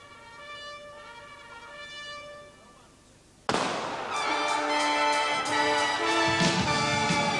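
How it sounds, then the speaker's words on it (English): A starter's gun at a field gun competition during the 1988 Australian Army Tattoo in an arena, one sharp loud crack after a moment of quiet, followed by sustained crowd noise and band music. "can we have absolute silence as we await the starter's gun?"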